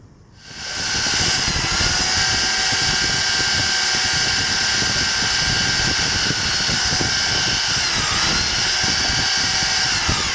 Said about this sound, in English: I'll be using a 8mm drill bit. I'll be drilling either side of this.